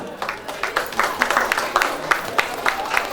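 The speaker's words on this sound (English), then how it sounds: "can we all give a big hand of applause to Nick Kanga" Audience at an academic day ceremony claps, a modest scattering of distinct handclaps from a small crowd, fairly close and moderately quiet, with faint voices underneath.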